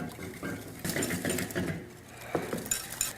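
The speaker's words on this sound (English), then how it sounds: "I'm going to whisk these together, and while I'm doing that, I'm going to add in our sugar" Eggs, egg yolks and sugar are whisked together in a bowl for a pumpkin flan, giving quiet, irregular metallic clinks and scraping against the bowl, with no voice heard.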